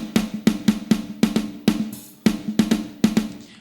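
Layered snare drum samples stacked into one full, punchy hit, repeating in a steady, slightly syncopated pattern of about a dozen sharp cracks with short decaying tails, close and dry with no other instruments.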